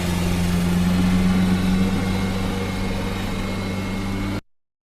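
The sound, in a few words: underwater ocean soundscape with vessel engine noise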